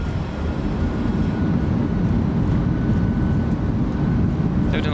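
Simulated PMDG 737-800 airliner with Norwegian livery rolling out after landing at Gdansk, thrust reversers giving a steady loud broadband roar that holds evenly throughout.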